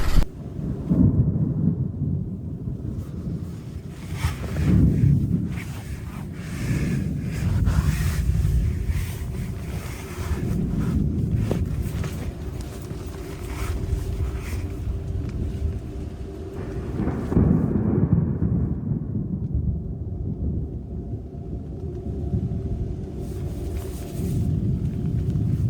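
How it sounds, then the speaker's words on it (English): A violent thunderstorm breaks directly overhead on Poveglia Island. Deep, rolling thunder rumbles loudly and continuously, mixed with heavy wind buffeting the microphone, and no one speaks. "with extremely violent lightning and thunder coming directly overhead."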